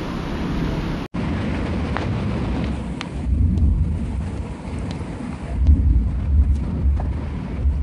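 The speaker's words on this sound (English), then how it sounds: "We still got a lot of thunder" Thunder rumbles low and deep through a supercell and derecho storm over Stockbridge, Georgia, in June 2013, with steady rain on surfaces and several heavier rolling swells late in the clip.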